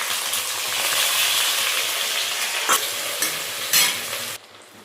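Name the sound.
frying onion, chilli and tomato in oil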